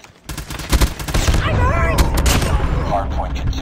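Rapid gunfire in a multiplayer shooter game's hardpoint mode, loud dense bursts of shots and a sustained automatic volley, with game voice callouts running under the shooting.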